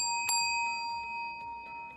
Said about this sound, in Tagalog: the candidates will hear the sound of a bell once